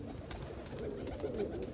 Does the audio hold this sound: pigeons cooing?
yes